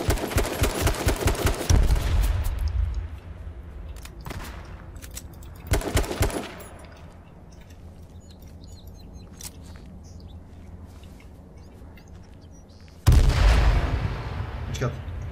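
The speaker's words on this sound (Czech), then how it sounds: "on střílí do mě furt" Gunfire in the battle royale video game H1Z1: King of the Kill, with rapid bursts of shots aimed at the player, loud volleys that come and go between quieter stretches with faint chirping.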